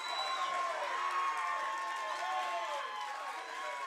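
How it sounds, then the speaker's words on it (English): Spectators at an MMA bout roar and shout together, a sustained, slightly distant wall of crowd noise with overlapping whistles and yells. "As the crowd is going wild"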